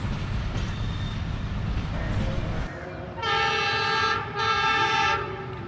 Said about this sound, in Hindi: 39 अब जाफ़र एक्सप्रेस भी वज़ीराबाद जंक्शन अप्रोच कर रही है